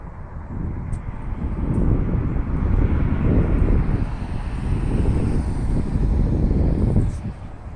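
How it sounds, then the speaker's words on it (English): A commercial-looking airplane passes overhead above a street, a broad steady roar that swells and holds for several seconds before easing, with some wind buffeting the microphone and no talk. "I saw a plane."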